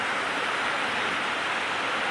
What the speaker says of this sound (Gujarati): વરસાદ તો હાલ બહુ જ ચાલુ છે